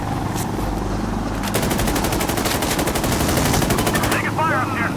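Sustained automatic machine-gun fire rattles in rapid bursts during an Insurgency Sandstorm firefight, loud and near, layered over a constant background rumble of battle.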